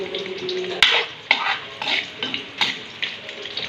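Onion and garlic sizzle in a pan, with a low frying hiss under repeated sharp scrapes and clinks of a utensil stirring against the metal at an uneven rhythm.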